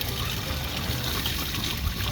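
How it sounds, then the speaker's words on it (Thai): Water is poured out of a hydroponic lettuce container in a backyard garden, a steady close trickle and splash running unbroken throughout. "สมมุติว่า เราเทน้ำออกนะครับ"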